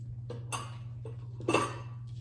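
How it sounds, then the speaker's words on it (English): Cake batter for a caramel apple cake is stirred in a bowl: a few soft clinks and scrapes of the utensil against the bowl, close and quiet, over a steady low hum. "You can stir that up, baby."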